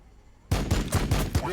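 Rapid bursts of gunfire in the strategy game Warhammer 40000: Battlesector, during a Blood Angel versus Blood Angel multiplayer battle, with five or six sharp close shots in a quick uneven rhythm over a dense combat din.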